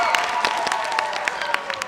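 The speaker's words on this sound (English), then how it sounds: "Can we get a round of applause for your costumers?" Audience applause for the costumers at a junior thespian theatre event, brisk, dense clapping from a crowd, fairly close and even over a short burst.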